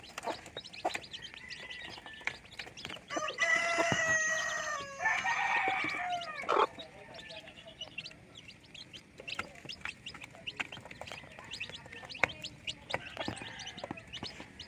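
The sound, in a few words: Rhode Island Red rooster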